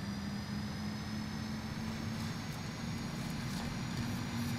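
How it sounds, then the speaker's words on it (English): Car engines hum in the background of a racing video game on the Dunas Blancas sprint, a steady, moderately faint drone with a constant tonal whine and no clear revving peaks. "I love how they have the background sounds of the engines revving."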